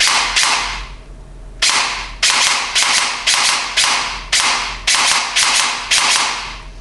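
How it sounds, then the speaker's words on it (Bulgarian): Electric airsoft gun firing, heard as a string of sharp snapping shots, mostly single and a few in quick pairs, loud and close with a brief mechanical whir after each, with no voices. "Тук изстрел идва почти мигновено."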